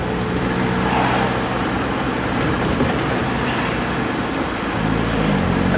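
A 1500 MG Midget sports car driving on a road, with a steady loud engine and road roar from inside the car that holds at an even level throughout.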